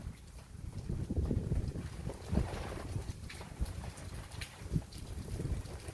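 Strong gusty wind roars through a backyard garden during a rainstorm, surging and buffeting the microphone with rumbling bursts over a steady rush of rain.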